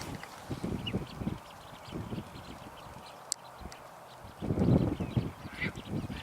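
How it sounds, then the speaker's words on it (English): Flock of waterbirds taking off from a fishing hole, a busy rush of flapping wings and splashing in two bursts, with scattered faint calls, fairly near and loud. "A lot of birds are taking off now."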